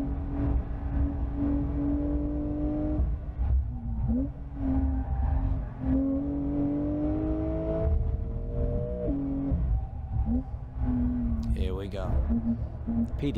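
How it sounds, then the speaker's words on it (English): Exhaust note of a 2020 Porsche 911 Carrera S driven on track, heard from inside the cabin as a steady engine drone that rises in pitch and then drops at gear changes across repeated runs. "Listen to that exhaust."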